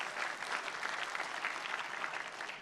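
A church congregation applauds during a sermon. The clapping is soft, dense and steady, sounding fairly distant, and no talk is heard over it.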